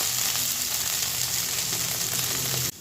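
Carrots and beans frying in a pan for vegetarian navratan curry, a dense close sizzle that runs steadily and then drops off abruptly at the end.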